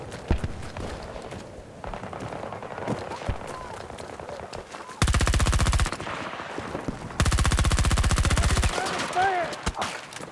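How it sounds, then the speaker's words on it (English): Gunfire in a military video game: bursts of rapid automatic fire, including two long loud sustained volleys, mixed with scattered single shots and footsteps. "Taking fire here."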